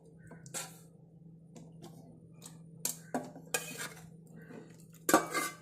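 A bowl and strainer are handled while straining a cooled, thickened rice-water hair mixture, giving a few sharp metallic clinks and clatters scattered over several seconds, with a denser clatter near the end.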